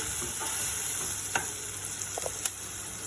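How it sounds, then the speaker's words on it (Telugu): Onions, chillies and turmeric powder sizzle steadily in a pan, with a continuous frying hiss and a few light clinks of stirring. "ఆ తర్వాత కొంచెం ఫ్రై అయ్యే వరకు వెయిట్ చేద్దాము"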